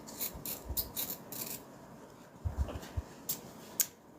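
Fabric lining and interfacing being trimmed at a sewing table produce soft intermittent rubbing and scraping strokes, close and fairly quiet, in irregular bursts with brief pauses and no voices.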